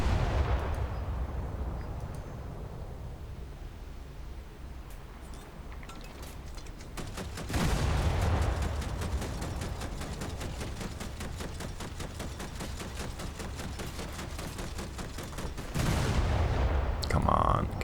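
Rapid bursts of 25mm main gun autocannon fire from tanks in War Thunder, loud and close, coming in sustained rattling strings with a few short pauses and heavier booming volleys in between.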